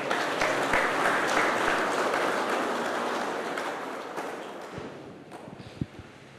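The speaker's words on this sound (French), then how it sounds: "On avait cette clameur des détenus de la prison de Melrose acclamée avec ses mains" Dense, sustained clapping from a crowd of prison inmates at Melrose prison during a Christmas Day mass, loud at first and gradually thinning and fading, with a few scattered last claps near the end.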